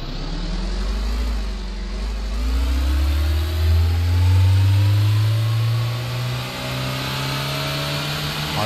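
A pickup truck engine in Warehouse Simulator revs up steadily, its pitch climbing through a gear as it accelerates, loud and close with a continuous drone throughout.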